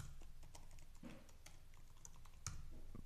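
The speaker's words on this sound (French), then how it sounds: "Allez, on va taper un mot de passe." Someone types a password on a computer keyboard, producing a soft, irregular stream of key clicks over faint room noise, with no speech.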